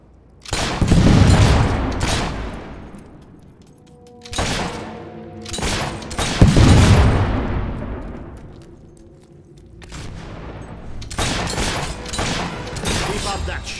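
Gunfire and booming blasts from the video game Fable 3, coming in three heavy volleys of rapid shots, each ringing out and decaying before the next burst, loud and close with no talking.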